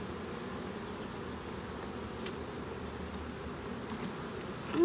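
Honey bees hum steadily around an open hive during an inspection, a low continuous buzz that stays fairly quiet and even throughout, with no voices.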